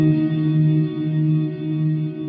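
Guitar chord strummed through a Fender Hammertone Reverb pedal set to its dark position, a loud sustained ringing chord with a smooth reverb wash and softened top end, played alone.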